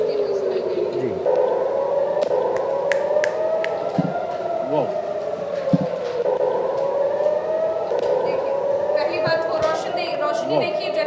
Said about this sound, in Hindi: सायरन्स की आवाज़ें इस समय आ रही हैं